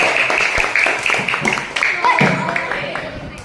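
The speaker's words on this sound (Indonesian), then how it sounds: "tepuk tangan semuanya" A classroom of students claps hands together in a burst of applause, the patter of many hands mixing with children's voices and talk throughout.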